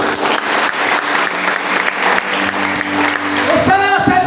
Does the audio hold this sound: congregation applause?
yes